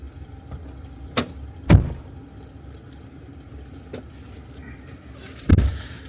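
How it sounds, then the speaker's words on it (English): Truck back door being dealt with: a few sharp thuds and clicks spaced over several seconds, the loudest two hard slams standing out over quiet vehicle background. "the truck is telling me that the back door is not closed"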